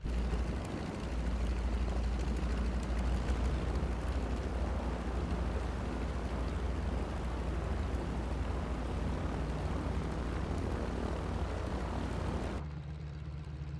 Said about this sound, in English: now we can take the prop and we can run the prop forward and we can listen to the sound change as we get the RPM in